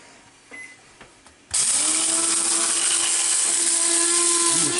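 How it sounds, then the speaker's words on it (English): After a few light clicks, a blade coffee grinder whirs into action on whole coffee beans, a loud, steady, high-pitched motor whine that holds unbroken to the end, close up. "I'm going to grind the beans"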